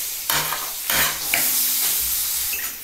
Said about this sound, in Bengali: ভেজে নিলাম, ভেজে আলুটাকে তুলে নিচ্ছি।